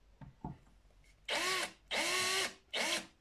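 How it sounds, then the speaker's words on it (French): A thread is cut into a hole in a 50cc carburetor held lightly in a vise, heard as three short, close whirring bursts of a powered tool with brief gaps and faint handling clicks before them. "avec le tarot, je vais venir tarauder le trou ici."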